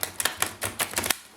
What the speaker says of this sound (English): One last shuffle I'm hearing.